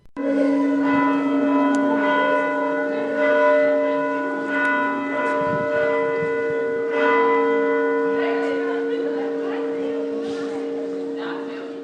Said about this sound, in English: As the bells of the Rila Monastery echoed through the mountainside